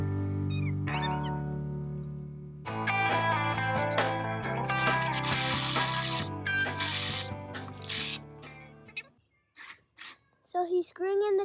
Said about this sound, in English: So he's screwing in the top screw now.